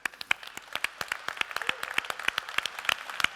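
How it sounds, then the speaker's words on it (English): A small audience claps for a hackathon group at an IoT event: sparse, crisp individual claps at an uneven rhythm, close and alone, lasting a few seconds. "I think they deserve a round of applause"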